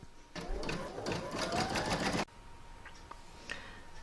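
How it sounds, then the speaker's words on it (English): Embroidery sewing machine stitching an owl hair barrette design, a steady mechanical whir and rapid needle clatter for about two seconds that stops abruptly, leaving a quiet room with a few faint clicks. "I'm now going to pop that in my machine and stitch round number 16 to secure it."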